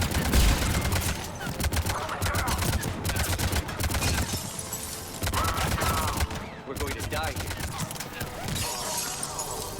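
Turret gunfire in the Mass Effect 3 game, rapid dense bursts of sharp shots rattling on continuously, loud and close with brief pauses between volleys.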